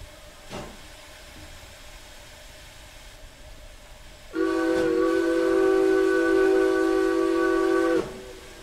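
Steam locomotive on a passenger service pulling away once its regulator is eased open, a faint hiss followed by a loud, sustained multi-tone steam whistle lasting several seconds before it cuts off, with no talking.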